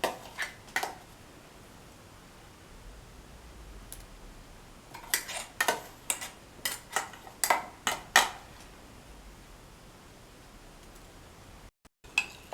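A fork or spoon beats egg mixed with ground curry leaves in a bowl, a quiet series of sharp clinks and taps against the dish, briefly, then a lull, then a more regular run of strokes.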